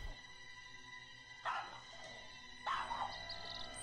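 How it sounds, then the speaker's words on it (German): Dog barking in the horror video game We Are Not Alone, two short bursts of barks with yips over a quiet ambient music bed, faint and somewhat distant. "Der Hund bellt schon wieder."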